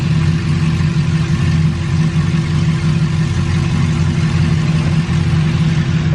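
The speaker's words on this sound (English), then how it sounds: "I got the idle actually dropped down to about 700, where it idled at 900 before" A Nissan S13 engine idles steadily at about 700 rpm, a loud, close, even low rumble that holds without change from start to finish.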